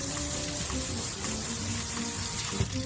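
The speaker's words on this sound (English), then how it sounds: "God, I love just rinsing that out with the hose and not having to scrub it." Water from a garden hose gushes steadily while a rock tumbler barrel is rinsed out, a loud, continuous spray and splash with faint clunks of the barrel, close by, with no talking.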